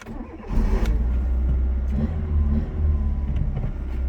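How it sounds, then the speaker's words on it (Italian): A Fiat Panda 4x4 Trekking engine cranks and catches, then settles into a steady low idle that rumbles on close by with slight rises in revs. "Ora accendiamo la macchina e proviamo."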